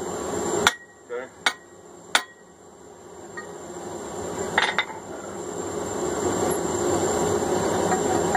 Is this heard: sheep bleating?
no